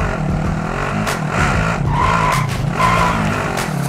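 A car skids in the Call of Duty: Modern Warfare Squads game, tires squealing over a steady engine roar in a continuous, loud stretch with brief louder squeals.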